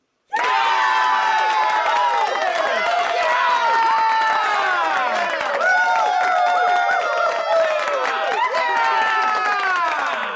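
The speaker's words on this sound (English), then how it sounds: "they all started cheering, so you must be" A large crowd cheers, whoops and shouts continuously for about ten seconds, loud and dense, with some applause mixed in.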